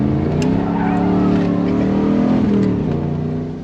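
An old Chevrolet Camaro's engine drones loudly and steadily while driving, a sustained rev that holds and then eases off near the end, with no voices.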